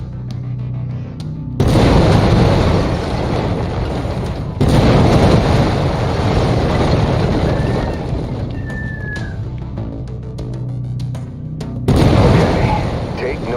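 Heavy autocannon fire from a mech in MechWarrior 5: Mercenaries, long loud bursts of booming rapid shots with short pauses between them, dense and close.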